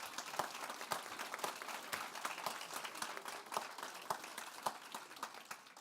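A seated audience claps for itself at a speech event, a faint, somewhat distant patter of applause with scattered sharper claps throughout.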